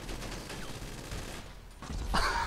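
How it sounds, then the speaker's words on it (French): A burst of gunfire from a video game, with a rapid flurry of shots swelling louder near the end over a steady low rumble. "j'entends des coups de feu"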